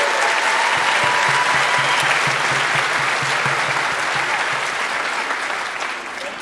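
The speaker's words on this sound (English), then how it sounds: "Let's have a round of applause for that." A large crowd at an elementary school winter concert gives a loud, dense round of applause that holds steady and then tapers off slightly at the close.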